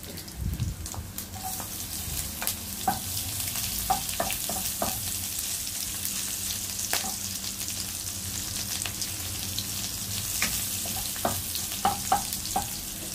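Garlic sautés in a pan for ginisang cabbage with a steady close sizzle and frequent sharp spatula scrapes and taps against the pan, with no one talking.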